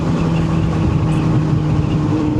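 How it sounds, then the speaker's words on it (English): A Benelli 600 motorcycle engine under way, a steady, loud droning hum with wind rush, heard from the rider's position at an even level throughout. "I love how it crackles when I pull off the accelerator."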